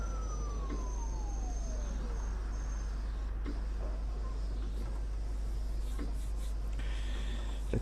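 A police car siren in the OMSI 2 bus simulator wails in falling and rising sweeps. It plays under a steady low engine hum and chirping crickets, and it is moderately loud.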